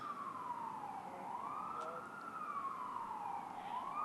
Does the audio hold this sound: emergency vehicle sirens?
yes